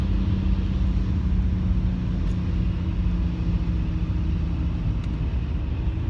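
A manual transmission car accelerates fast, heard from inside as a loud, steady low engine and road rumble that holds constant without talk.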